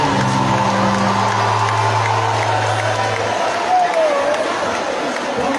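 A concert crowd applauds and cheers, a steady, loud wash of clapping and whoops with voices shouting and chattering through it, a low droning tone underneath early on.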